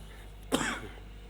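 A man with a sore throat gives a single short, fairly quiet cough, after which the room falls back to a faint steady hum.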